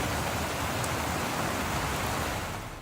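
Heavy monsoon rain in Rajasthan pours down in a dense, steady roar that stays loud and unbroken for the whole stretch.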